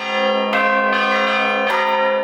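Rich, sustained church bell tones ring together in São João del Rei, Brazil, at night, with fresh strikes layering over the lingering resonance in a dense, continuous peal.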